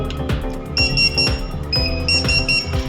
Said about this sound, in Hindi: उस पर बजर बजना शुरू हो गई कस्टमर के पास